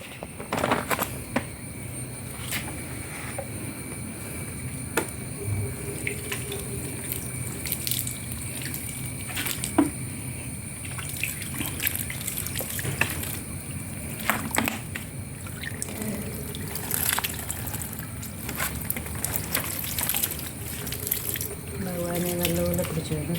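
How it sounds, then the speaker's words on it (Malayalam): Water is poured into a rubber grow bag freshly topped with fertilizer, making a steady trickling splash with scattered knocks and clatters at moderate loudness; no one speaks. "നമുക്ക് വെള്ളം കൂടെ ഒഴിച്ചു കൊടുക്കാം."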